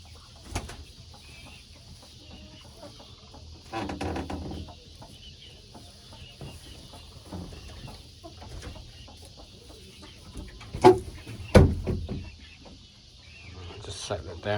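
Backyard chickens in a new coop cluck softly as they settle onto the roost for the night, with scattered, faint, close clucks and some louder calls near the end, under a quiet background with voices now and then.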